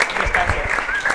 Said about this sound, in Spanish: Un aplauso, Dios.